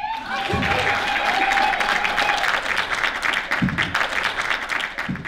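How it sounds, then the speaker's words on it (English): An audience at an Africa Week event breaks into applause, a full crowd clapping loudly and continuously, with a brief tonal sound near the start and faint voices mixed in. "You can clap now."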